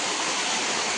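Water rushing to irrigate a farm field, a dense, steady broadband gush heard up close with no pauses.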